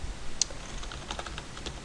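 Fingers typing a folder name on a computer keyboard, a string of light, close clicks over a hissy background.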